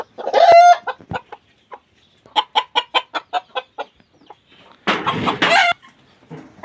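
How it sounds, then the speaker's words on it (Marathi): Frizzle chickens cluck in a quick series of short, close calls, with a louder squawking burst near the end and no talking. "उलट्या पिसाचे कोंबडे मी खरेदी केले आहेत ही कोंबडी आहे"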